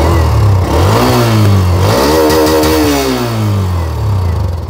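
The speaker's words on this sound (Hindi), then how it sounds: "एक बार एग्जॉस्ट साउंड सुना देता हूँ मैं आपको" Loud, close exhaust of an Xtreme 125 motorcycle as the throttle is blipped, the engine note rising sharply, falling back, then climbing again before settling.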